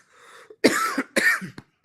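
A person coughs in two or three harsh, close bursts, with a short breath and a quieter throaty sound before and after.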